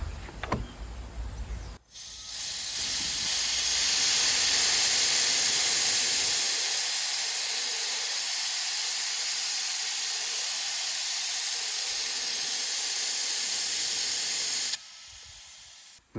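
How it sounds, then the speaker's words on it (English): An air compressor drives suction through an extraction tube, drawing engine oil from a Range Rover L405: a steady, loud, close hiss starts abruptly after a short pause, holds for about thirteen seconds, then drops off suddenly. "I've got my air compressor on, so I'm just going to open this valve"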